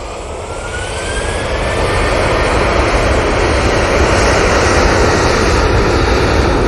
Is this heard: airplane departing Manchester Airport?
yes